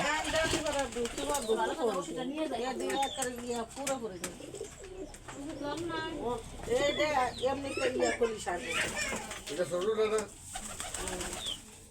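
Domestic pigeons cooing repeatedly in a loft, layered low throaty calls overlapping throughout, with someone talking over them much of the time.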